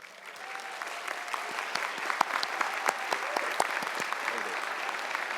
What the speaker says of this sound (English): stand up for a big round of applause